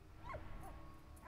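A dog whimpers and yips faintly in the World War I game Valiant Hearts, a few soft high whines over a low rumble.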